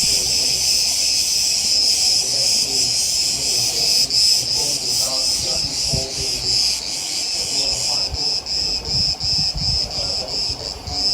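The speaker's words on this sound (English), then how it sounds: "You can clearly hear the diminishing chatter of the cicadas without harming them." Cicadas buzz in a loud, steady high-pitched chorus with pulsing rhythm, the chatter growing more broken toward the end as it diminishes, with some wind rumble underneath.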